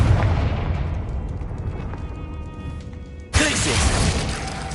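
In a Harry Potter video game duel, a Confringo spell erupts with a sudden loud explosive burst after a fading rumble, its bright crackling blast lingering to the end.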